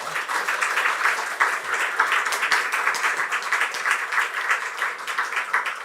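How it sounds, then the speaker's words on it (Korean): A church congregation applauds during a Sunday service, with steady, dense clapping from many hands that holds at an even level throughout, moderately close. "박수로 한번 격려하겠습니다."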